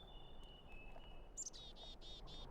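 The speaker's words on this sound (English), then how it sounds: "It is the Merula Alba again." Merula Alba bird from the video game Syberia II gives a short run of thin, high chirps near the end, faint over a quiet, steady ambient background.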